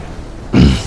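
A single short, loud cough or throat-clearing bursts out close to the microphone during Final Fantasy XIV game voice chat, following a moment of quiet.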